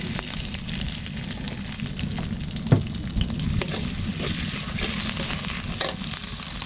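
Onions sizzle and fry in hot mustard oil in a pan, with a steady crackling hiss, occasional stirring clicks and soft pops close by.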